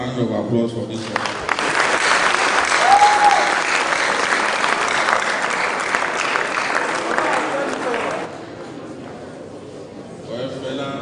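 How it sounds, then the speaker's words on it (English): Sustained audience applause at a Felabration 2018 event, a dense steady wash of clapping from a large crowd that fades near the end, with a faint voice and murmurs underneath. "Another round of applause for this one."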